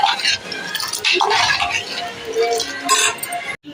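Payasam being poured into a pot and stirred, giving liquid splashes and clinking of a spoon against metal, close and moderately loud, with a voice talking over it.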